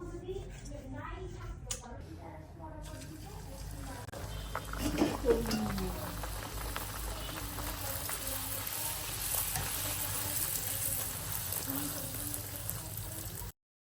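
Luchi, Bengali fried bread, cooking in a pan with a steady hissing sizzle that runs throughout, while someone talks over it.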